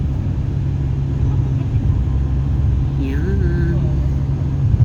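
Steady low road rumble and engine drone of Dubai traffic heard from inside a moving car, with a person speaking over it.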